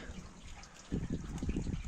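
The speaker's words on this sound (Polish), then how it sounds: "i piękny deszczyk" Gentle rain drips and patters steadily near an Ursus tractor, a soft watery trickling that starts abruptly about halfway through and continues close and fairly quiet.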